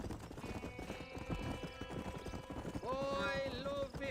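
A horse gallops with steady clip-clop hoofbeats in the Western video game Red Dead Redemption, close and loud, while a voice talks over it and a whinny-like tone rises near the end.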